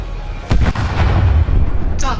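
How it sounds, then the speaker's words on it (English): A spaceship blowing apart under weapons fire in the video game Elite Dangerous: a pair of sharp blasts followed by a rumbling, crackling explosion with heavy low end, then another burst near the end, with brief talk over it. "I'm just going to have to blast him for a while and eventually it'll explode"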